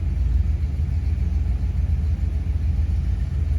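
A 1972 Chrysler Imperial idles steadily just after a cold start, its low engine rumble running smooth and even throughout, close by with no talk.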